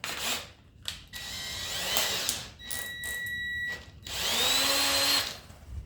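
A homemade ATC wheel polisher runs in a few short bursts, its motor whirring and whining up to speed and spinning down again, fairly close with clanking mechanical noise between runs.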